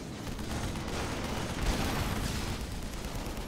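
Dense rumbling barrage of artillery in a 2v2 real-time strategy match of the game Salt, a steady wash of distant booms and crackling shots with no clear gaps.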